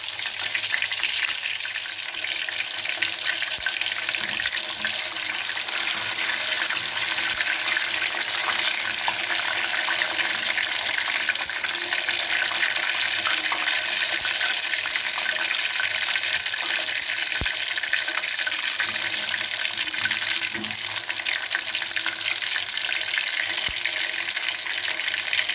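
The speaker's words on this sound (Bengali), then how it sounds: "আমি এটা একটু তেলে হালকা ভেজে নিচ্ছি" Potatoes lightly frying in hot oil give a steady, even sizzle and crackle that runs unbroken throughout at moderate volume, with occasional soft stirring clinks.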